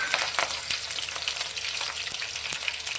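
Mustard seeds and finely cut green chillies hit hot oil for a bottle gourd muthiya tempering, giving a loud, steady sizzle peppered with sharp crackling pops throughout.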